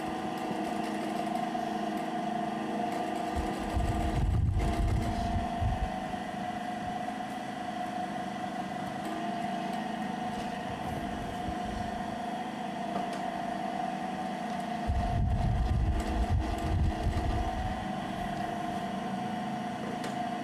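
A sewing machine doing the final double stitching on a handmade shoe in a Togolese artisan's workshop gives a steady, even motor hum throughout, with two stretches of heavier low rumble as it runs harder.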